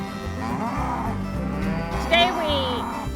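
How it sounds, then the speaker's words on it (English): Cattle low in a wooded Minnesota pasture, several long drawn-out moos overlapping at close to medium range, one rising higher and louder near the end, with no talk. "Today we moved our cattle."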